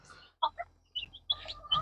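Young chicks in a poultry coop give a few short, high chirps in scattered bursts, fairly faint and close, separated by near-silent gaps.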